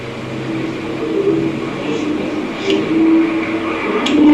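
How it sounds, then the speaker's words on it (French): A truck outside gives off a steady, low engine rumble with a faint mechanical drone that swells slightly toward the end, continuous and somewhat distant, with no talking. "Il y a un camion, il y a quelque chose qui fait un bruit."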